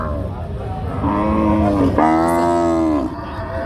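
A Sindhi breed cow lows once at a busy cattle market, a long drawn-out moo swelling up and then cutting off, with people talking throughout and the crowd noise of the market underneath.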